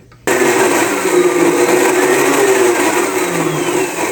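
A blender starts abruptly and runs loudly and steadily, its motor whirring as it crushes dry, crumbly graham crackers into crumbs.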